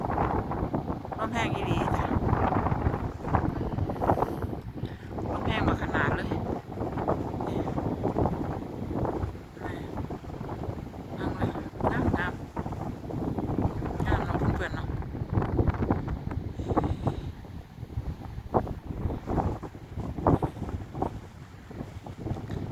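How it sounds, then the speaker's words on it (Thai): Dry wind blowing at the seaside around eight at night, heard as a constant, loud rush and buffeting against the microphone, with a person talking over it throughout. "เพื่อนๆได้ยินเสียงลมปะ ลมแห้งเนาะ"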